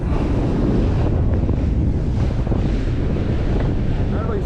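Strong wind buffets the microphone over the rush of waves on a boat trip across the blue Mediterranean Sea, a loud continuous roar with no talking.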